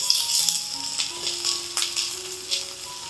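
Chopped garlic and ginger sizzle in hot oil in a pan for an iftar snack, a steady close crackle and hiss with light clinks and stirring rattles.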